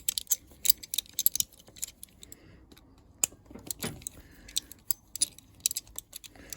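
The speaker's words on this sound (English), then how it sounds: "So we'll take these 4 Allen keys out," Small metallic clicks and clinks come close up and in scattered bursts as a hex key loosens Allen screws on a Yamaha XV535 Virago carburetor. There is no talk.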